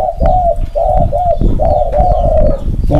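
A spotted dove coos close by, repeating a steady series of soft, hollow, rolling notes in a regular rhythm, loud and clear, with no voices.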